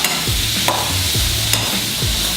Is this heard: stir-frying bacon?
yes